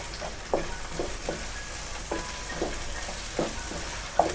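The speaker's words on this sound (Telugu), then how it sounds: "అల్లం వెల్లుల్లి పేస్ట్ వేసుకున్నాం కదా, పచ్చివాసన పోయేంతసేపు ఫ్రై చేసుకుందాం." Carrots and ginger garlic paste fry in a pan for Hyderabadi bagara rice, giving a steady close sizzle broken by repeated soft scrapes of stirring roughly every half second.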